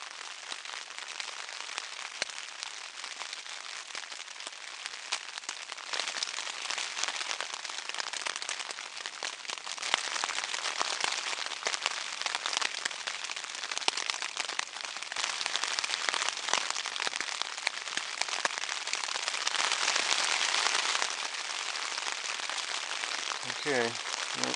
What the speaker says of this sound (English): Depends on how long this rain lasts.